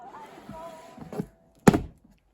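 A dresser drawer in a reborn doll nursery slides and shuts with a single loud wooden thunk near the end, preceded by softer rubbing and a faint earlier knock, close by with no talk.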